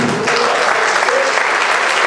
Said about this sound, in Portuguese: Se você pode dar um aplauso ao Senhor.